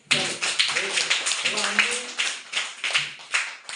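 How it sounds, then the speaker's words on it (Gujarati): Children clap their hands in a classroom as applause for a classmate, a brisk scatter of claps, close and fairly loud, with voices mixed in. "તાળી પાડો."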